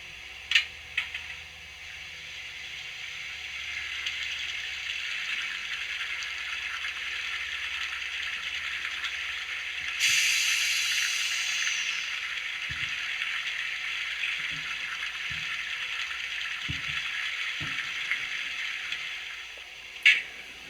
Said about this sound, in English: which is the water tank filling.